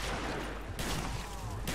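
Gunfire in the Black Ops Zombies video game, a dense burst of loud, sharp shots that fills the clip, with a fresh crack near the start, one in the middle and another at the end.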